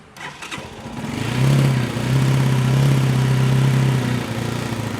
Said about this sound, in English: Now that the bike is running,